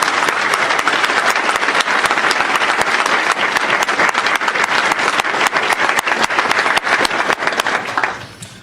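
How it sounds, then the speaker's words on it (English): Loud, dense applause from a crowd at a sheriff's office law enforcement academy class graduation, sustained for several seconds before tapering off at the end. "Let's give them a round of applause."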